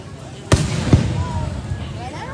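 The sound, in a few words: fireworks exploding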